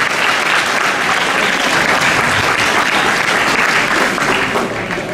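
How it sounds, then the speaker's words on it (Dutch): Sustained, loud audience applause fills the room at a Belgian gala ball held in Lier, a dense unbroken wash of many hands clapping that holds steady throughout without any voices. "Graag een applaus."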